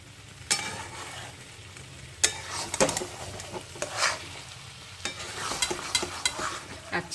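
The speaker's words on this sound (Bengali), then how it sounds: "আমি কিন্তু খুব ভালোভাবে কিন্তু নাড়াচাড়া করে নেব যাতে পোস্তর যে কাঁচা গন্ধটা এটা যেন কিছুতেই না থাকে" Poppy seed paste (posto) frying in a pan while being stirred, with steady quiet sizzling under repeated scraping and clinking of a utensil against the pan, close and irregular.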